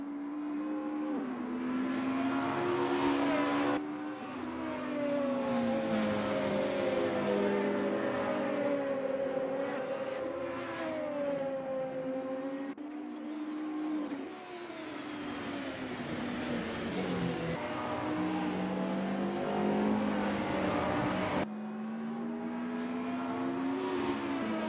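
Racing cars in a SimTC touring car sim racing game at Thruxton rev and accelerate continuously, their engine notes rising and falling as several cars run close together, loud and unbroken throughout.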